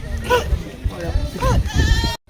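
Goats bleat repeatedly at a busy livestock market in Bargari, several wavering cries close by, mixed with people talking and crowd noise.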